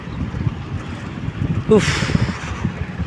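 A vehicle driven fast along a road toward Durgapur Barrage on a freezing early morning, with steady low road rumble and wind buffeting throughout, a brief gust swelling mid-way, under a man's short exclamation.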